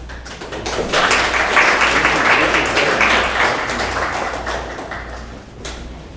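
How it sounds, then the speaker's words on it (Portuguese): An audience applauds a lecturer after a talk on the Alexander Technique, a full, continuous wash of many hands clapping that swells early, holds steady, then gradually thins out near the end, with a low hum underneath. "Mais uma vez, uma salva de palmas para a professora"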